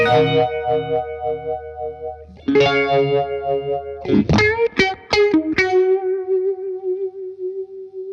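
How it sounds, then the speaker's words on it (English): Electric guitar chords through a phaser pedal emulating a rotary speaker, with a swirling, rotating warble, a few choppy strums midway, then a sustained note that keeps pulsing and turning as it fades. "as if there's a rotary speaker that's turning"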